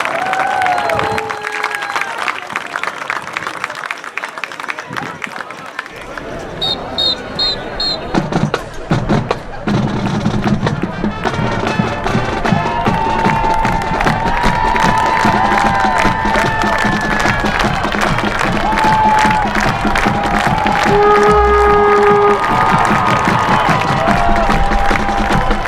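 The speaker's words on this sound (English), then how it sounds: "One more round of applause for our 2019 senior band members and parents." Crowd in the stands at a varsity high school football game, Almont Raiders at Richmond Blue Devils, applauding and cheering for senior band members and parents, a loud sustained roar of clapping and shouts with band tones and whistles mixed in.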